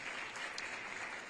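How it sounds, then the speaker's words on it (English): Applause from an audience at a human relations commission's 60th anniversary program, a steady, fairly faint wash of clapping held evenly through the short moment. "this is worth some applause"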